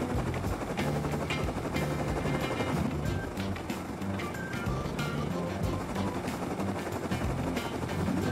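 Helicopter in the survival game Rust, a steady dense rotor and engine drone that holds loud throughout, with busy game sounds layered over it and no pauses.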